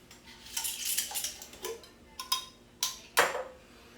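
Washed glass jars clink and tap as they are handled while preparing pickled red onions, a series of sharp, bright knocks at an irregular rhythm, close and fairly quiet.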